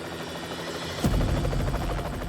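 A helicopter's rotor chop thumps steadily overhead, loud and close, swelling sharply about halfway through and staying strong, while tracking above a LIDAR truck at Skinwalker Ranch.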